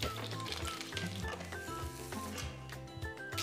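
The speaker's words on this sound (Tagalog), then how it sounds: "Iprito na natin tong mga hipon." Prawns sizzle and crackle in hot oil in a pan, a continuous close frying hiss with small pops, fairly quiet and with no talking over it.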